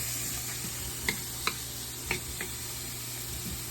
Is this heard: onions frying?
yes